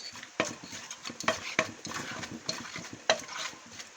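Som tam, a green papaya salad, being pounded and mixed in a mortar, giving irregular sharp knocks and clacks amid soft scraping and stirring, close and moderately loud.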